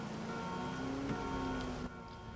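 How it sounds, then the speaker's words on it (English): Rain falls as a constant broadband wash with a faint steady hum underneath, then drops abruptly quieter near the end. "Sorry, it's a bit rainy and gross."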